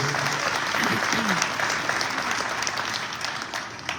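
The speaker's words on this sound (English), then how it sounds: "Give him a round of applause" Audience applause at a Philadelphia announcement event at Live! Casino & Hotel, honouring Mayor Jim Kenney; steady, dense clapping from a crowd sustained for several seconds, with a faint voice briefly audible beneath it.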